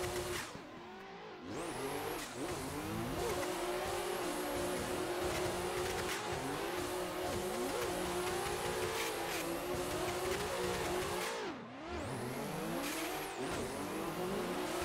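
A drift car in a sim racing game on the Englishtown Formula Drift track, engine screaming at high revs with repeated shifts and continuous tire squeal, loud and steady, with two brief lifts in the engine note.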